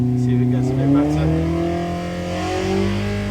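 A car engine revs up and down on a track day. The loud, rising and falling tones sit close to an in-car microphone and continue steadily.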